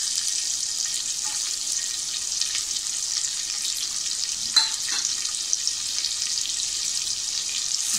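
Chopped onion fries in hot oil with mustard seeds for a tempering, giving a steady, fairly quiet hiss that runs throughout, with a few faint clinks of a spoon.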